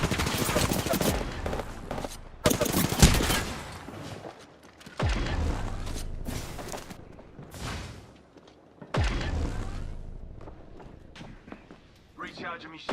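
A video game firefight with repeated bursts of automatic fire and sharp shots, some loud and close and others fainter, broken by short lulls, with voices talking throughout.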